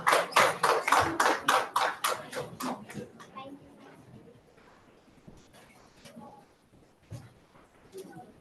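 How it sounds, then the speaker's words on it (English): An audience applauds a student innovation team at a national challenge session with a burst of clapping. It is loud at first, then thins out and fades within a few seconds into scattered faint claps and room noise. "welcoming them with an applause."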